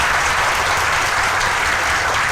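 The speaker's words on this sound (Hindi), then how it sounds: "आप भी एक बार जोर से ताली बजाकर" A crowd at a Hindi-language stage show claps loudly and steadily in thick, continuous applause that fills the whole short stretch.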